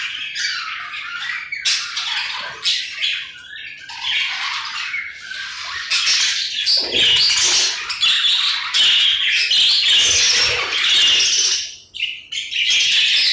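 Budgerigars squawk and chirp continuously, a dense, loud, close chatter of many birds with brief dips.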